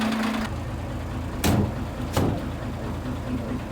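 Truck engine running at a steady idle with a low, even rumble, broken by two sharp knocks partway through.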